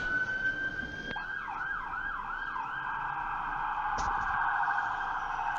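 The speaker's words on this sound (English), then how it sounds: "I hear the ambulances now calling me to the" An ambulance siren wails, rising and falling in a repeating cycle, loud and steady, with passing road traffic beneath it.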